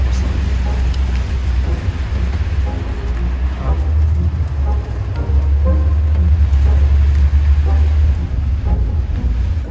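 Steady rain drums on a bus during a ride through mountain roads in Mindanao, blending with a constant low engine rumble and road noise, with faint voices in the background.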